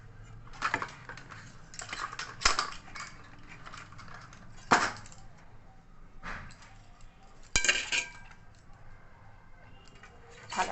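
Chana dal is stirred in oil in a wok, with intermittent sharp clinks and scrapes of a utensil against the pan over a quiet background, coming in irregular bursts.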